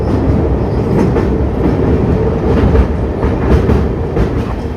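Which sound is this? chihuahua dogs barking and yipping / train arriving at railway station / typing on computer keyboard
train arriving at railway station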